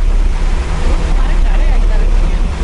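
Rough water churned up alongside the passenger ship KM Labobar as it sails from Surabaya toward Jayapura, a loud steady rush of wash and surf mixed with buffeting wind noise and deep engine rumble.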